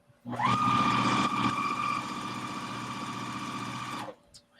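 A sewing machine stitching quilt squares cut from leftover 5-inch charm pack fabric runs in one steady, close burst of about four seconds, starting and stopping cleanly, with no talk.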